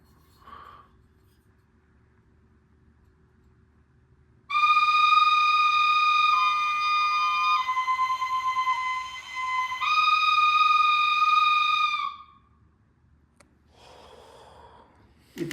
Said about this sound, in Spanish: Estas son unas flautas antropomorfas